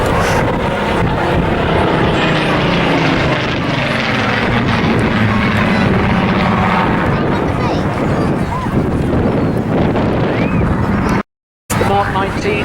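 A Spitfire Mark 19 with a Griffon engine flies past at the Clacton Airshow, a loud continuous propeller drone and roar that swells and shifts in pitch, with wind buffeting, a commentator talking over it and a brief dropout near the end.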